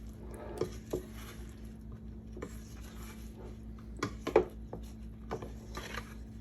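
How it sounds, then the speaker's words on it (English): Broccoli salad is stirred with garlic oil, making soft squishy tossing and a few faint utensil clinks against the bowl over a low steady hum. "And you want to give it a good stir."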